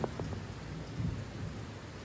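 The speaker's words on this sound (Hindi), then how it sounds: "बढ़िया बारिश हो रही है भाई।" Heavy rain pours steadily as a hiss across the whole stretch, with low thunder rumbling and a few dull knocks near the start; no voices.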